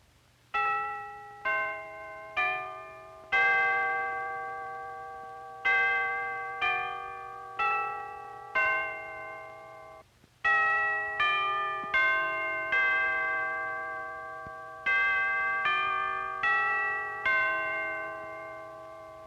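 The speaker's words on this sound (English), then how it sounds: "play a melody for us on the chimes" A melody played on chimes: a slow run of clear, ringing struck notes with long decaying tails, one after another in a steady rhythm, heard alone with a faint low hum underneath.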